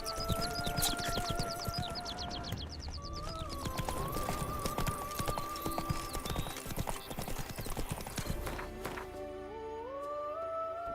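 Roach, the horse in The Witcher 3, clip-clops rapidly with hooves under swelling game music, with a brief whinny-like tone near the start; the hoofbeats stay constant and prominent throughout.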